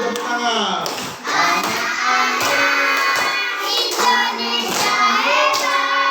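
A school class claps hands while singing together, the rhythmic claps mixed into children's voices, loud and close throughout.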